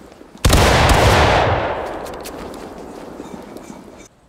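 A company of muskets fires a single massed volley in the War of Rights Civil War game: a sudden loud crash of many shots at once, then a long rolling echo that slowly fades away.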